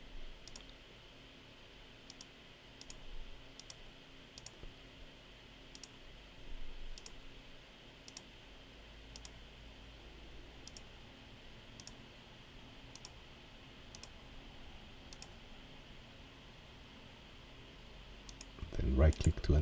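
Computer mouse clicks come at a steady, regular pace while polygons are drawn in QGIS mapping software. Each click is a sharp, close, faint tick over a low background hum, with a louder bump of handling noise at the end.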